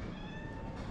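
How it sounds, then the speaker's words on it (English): Cat meowing on a street in Hammamet, Tunisia, a brief steady call set against a busy outdoor background hum. "Another cat over there, two cats and a third cat."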